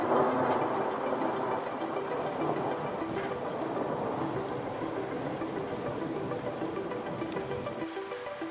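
Heavy thunderstorm rain in Florida, a dense, steady wash of rainfall close by with a low rumble of thunder underneath and no voices.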